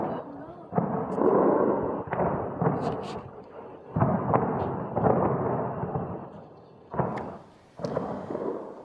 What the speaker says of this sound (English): We've received these pictures from Tehran where you can hear explosions in the background.